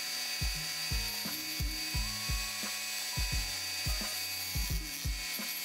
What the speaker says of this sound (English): So first up, I use my rotary tool to remove the axles.